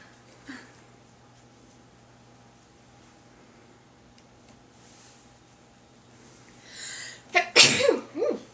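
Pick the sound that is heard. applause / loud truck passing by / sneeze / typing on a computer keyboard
sneeze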